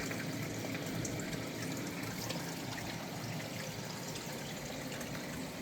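Creek water trickles and splashes steadily over rocks, a continuous, even babble close by, with no voices.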